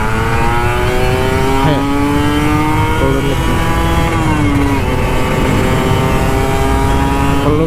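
A Kawasaki Ninja RR 150 sport motorcycle engine revs continuously, its pitch climbing and dipping in sweeps, loud and close, with no talking.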